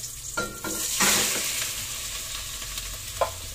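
Garlic and onion sautéing in a little oil in a pan, a close sizzle broken by scraping stir strokes and a sharp clink near the end, with no voices.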